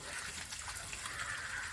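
Water gushes steadily from the opened tap of a natural water filter, a continuous close rushing flow without pauses.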